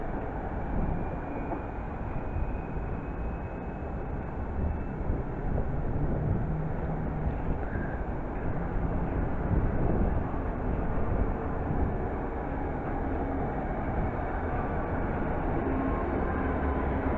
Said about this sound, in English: And here comes the Amersham train.